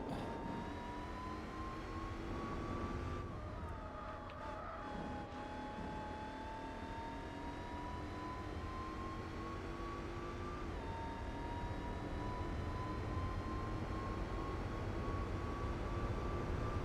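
A race car engine in Gran Turismo 4 Spec II, a loud steady high-revving whine that drops briefly on an upshift, then climbs again and holds over a long, near-continuous run.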